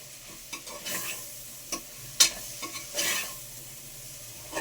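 Vegetables sizzle in a pan while a utensil scrapes and stirs them in intermittent strokes, close up and without speech.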